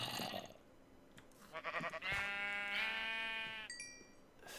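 Sheep bleating in a blocky survival video game, several wavering bleats close by over quiet ambient game sound, with a short softer call near the end.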